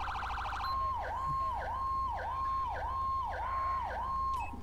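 High-low police siren on an LSPD patrol car in GTA 5 with LSPDFR, a steady two-tone wail swooping down and back up about twice a second, loud and continuous over a low engine hum, no talk.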